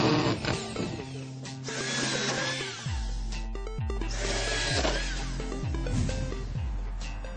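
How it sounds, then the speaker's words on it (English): Power drill boring a hole for window shutter hardware on a home, a steady whirring drone that rises and falls with several short pulses of the motor, close and alone without talk. "So let's drill."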